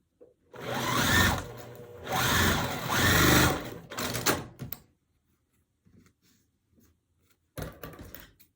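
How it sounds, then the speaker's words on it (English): A sewing machine stitches a Mini Log Cabin quilt block for a Tula Pink Butterfly Quilt, running in several close, whirring bursts separated by short pauses, with quiet handling noises in between and a final short run. "I'm going to sew this part here"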